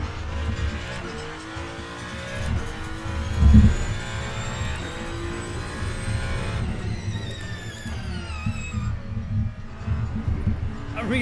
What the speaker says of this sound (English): the engine sound is pretty similar to every other game, I feel like